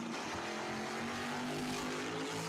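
An Opel and an Oldsmobile Cutlass launch side by side at a dragway, a loud, distant roar of high-revving race engines sustained throughout the short burst.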